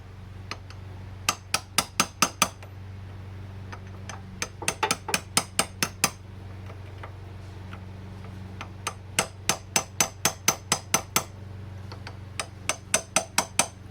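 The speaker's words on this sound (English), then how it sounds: "I'm just gonna lightly tap down on this just to help seat it" Light tool taps seating a terminal on a 2006-2016 Chevrolet Impala airbag module, sharp metallic clicks in quick bursts of several taps with short pauses between, close and fairly quiet.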